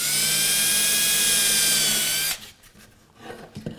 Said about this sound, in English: now I'm going to drill a small pilot hole through this